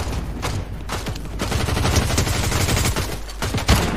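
Gunfire in a Fortnite duos match, dense rapid bursts of shots that carry on almost continuously and loudly across the whole stretch.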